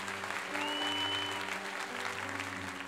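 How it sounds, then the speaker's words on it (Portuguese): Congregation at a Catholic night of praise clapping in applause for Jesus, a steady wash of claps over sustained musical tones, with a brief rising whistle-like tone early on. "Quem crê nisso, dê uma salva de palmas para Jesus"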